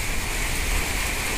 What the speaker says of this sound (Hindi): ये देखो बारिश कितनी तेज हो रही है